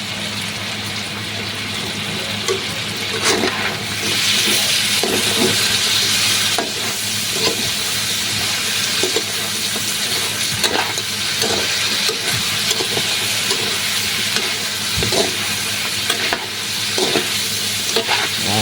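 Pork adobo patuyo sizzling and frying in a pan while being stirred, a continuous loud crackle broken by scraping strokes of the utensil.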